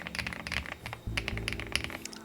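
Quick bursts of typing on a mechanical keyboard with linear switches, smooth clacky keystrokes in rapid clusters, close and clear with no talking.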